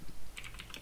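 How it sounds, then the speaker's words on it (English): Quick keystrokes clatter on a computer keyboard during JavaScript coding, several close, crisp clicks in a brief burst at low level. "Typing and talking at the same time is really hard."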